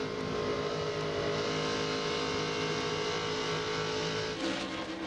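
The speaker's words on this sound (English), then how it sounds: "Sizable group of cars right there, all clustered together, making it 3 wide as we approach the 20 lap to go mark" A tight pack of Busch Series stock cars races three wide at the 2000 Auto Club 300, a continuous loud engine roar sustained throughout with a brief surge near the end.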